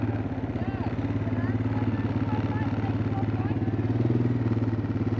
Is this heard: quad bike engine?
yes